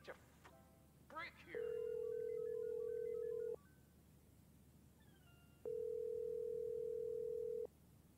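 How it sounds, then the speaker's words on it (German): A telephone rings in the GTA 5 roleplay game: two long, steady electronic tones separated by a pause, preceded by brief dial beeps, clear and prominent over faint background noise. "wenn der Telefon schon 600 Jahre klingelt"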